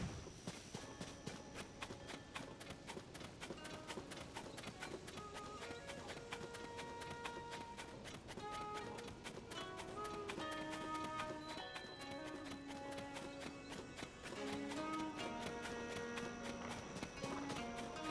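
Rhythmic clip-clop of horse hooves galloping in Zelda: Tears of the Kingdom, a fast steady beat under bright game music that continues throughout.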